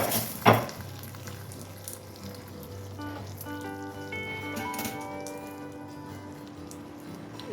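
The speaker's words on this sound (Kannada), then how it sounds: "ಕುದೀತಾ ಇರುವಂಥ ರಸಗೊಜ್ಜಿಗೆ ಈ ಒಗ್ಗರಣೆನ ಹಾಕ್ಕೊಡೋಣ." Hot tempering of chilli, curry leaves and asafoetida poured into boiling rasagojju, a traditional Madhwa Brahmin Karnataka dish, giving a sharp splash and burst of loud sizzling that settles into steady crackling with a faint ringing tone, no talk.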